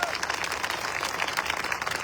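Applause from an audience at a direct-selling company seminar, a steady patter of many hands clapping for a couple of seconds under light crowd noise.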